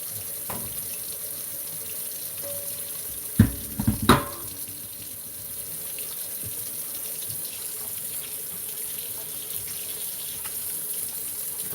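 Tap water runs over a raw steak at a kitchen sink, a steady close gush with a couple of brief louder splashes and clatters early on, then a continuous quieter flow.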